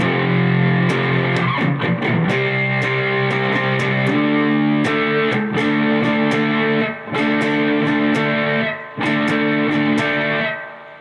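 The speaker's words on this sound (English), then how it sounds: "Part 2 of the chorus played all together in slow will sound like this." Part 2 of the chorus rings out on distorted electric guitar at slow speed, loud and near, with chugging power chords, sharp strums and brief gaps between phrases.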